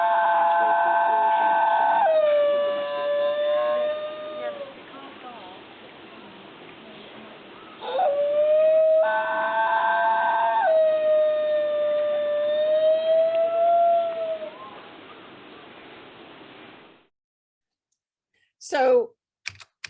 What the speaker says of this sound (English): And this is why they're called singing dogs.